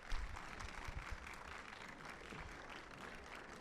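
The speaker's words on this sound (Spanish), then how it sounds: "aplauso." Audience applause at a talk on the education movement in Chile, a faint, steady wash of many hands clapping at a distance, holding evenly throughout.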